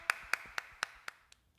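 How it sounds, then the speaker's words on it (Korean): About six evenly spaced sharp claps from a church worship service, ringing slightly in a reverberant room and fading away, with no voices. "다 같이 하나님께 영광의 박수 올려드리겠습니다."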